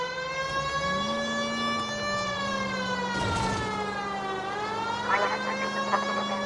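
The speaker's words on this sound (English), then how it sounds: "At least if you put the siren on, it'll let people know what's happening before you hit them, Phelps." Police car siren wailing in the video game L.A. Noire, a steady loud rising and falling tone with engine noise beneath, continuous throughout.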